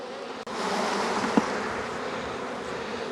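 Honey bees buzz around an open hive during a split inspection, a steady close drone of many wings with one brief sharp knock early on.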